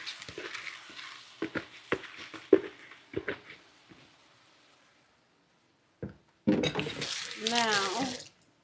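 Liquid poured into a pan of split pea soup, a steady splashing pour near the end following a stretch of quiet kitchen sounds.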